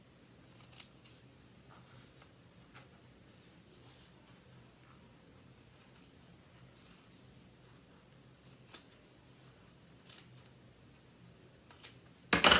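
Scissors snip finger-knitted yarn edges in a quiet room, sparse small crisp cuts scattered across the stretch, faint and close, ending with a louder handling clatter.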